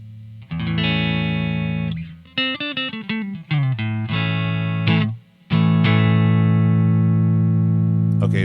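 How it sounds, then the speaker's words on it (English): An electric guitar runs through a VFE Junior Phaser pedal set for a very slight phase effect, so the chords and single-note runs ring out loud and close with only a gentle shimmer and no voices. "Like you can kind of hear the phaser effect in there."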